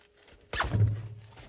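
A single zipper pull on a Tracer Tactical DUFF pouch: one quick, close rasping zip that trails off into a softer drag, heard alone against near silence.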